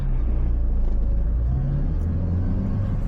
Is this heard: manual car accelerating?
yes